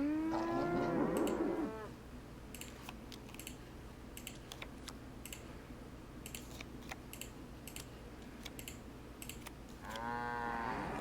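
Cows moo in the Nancy Drew: The Captive Curse computer game, with a short moo at the start and another at the end, and soft tapping in between at low level.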